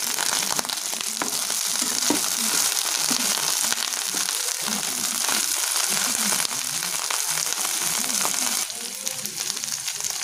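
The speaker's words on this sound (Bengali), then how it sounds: "প্রথমে আমরা ফুলকপিটা দিয়ে দেব। এটা প্রথমে আমরা একটু ভালো করে ভেজে নেব।" Cauliflower frying in a pan for restaurant-style fried rice gives a loud, steady sizzle, with bursts of crackling and occasional stirring scrapes throughout.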